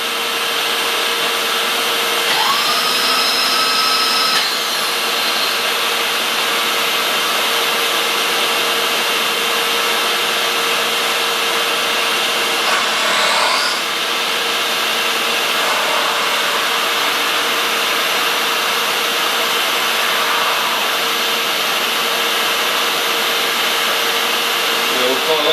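Milling machine spindle running at speed in a machine shop, a loud steady whine with a constant tonal hum that holds for the whole stretch, briefly shifting in pitch near the start.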